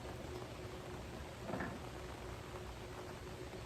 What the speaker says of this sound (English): So listen to the rain.